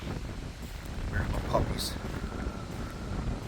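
Strong wind buffeting the microphone outdoors near a town transfer station, a continuous low rumbling roar with gusty swells, while someone talks over it.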